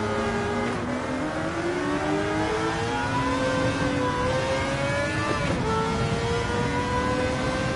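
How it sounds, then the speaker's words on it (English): A 4-cylinder car engine in a racing video game revs and climbs through the gears in a continuous loud drone, with rising pitch sweeps and brief dips at the shifts. "Just a little baby 4-cylinder"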